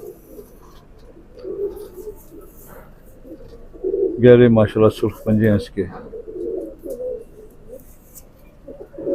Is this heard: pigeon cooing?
yes